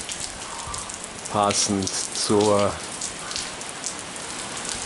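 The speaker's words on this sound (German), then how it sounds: "Es regnet schon den ganzen Tag" Steady rain falls outside on a day of continuous downpour, a soft even patter running throughout while a voice speaks briefly over it.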